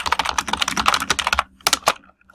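Rapid typing on a computer keyboard, a dense burst of close, crisp key clicks for over a second, then a short pause and a few scattered final taps.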